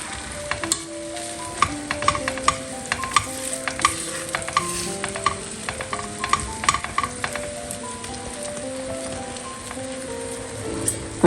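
An egg and roti fry in a pan, giving a steady, soft sizzle and crackle with small scattered pops and occasional light scraping, heard alone and close at moderate loudness.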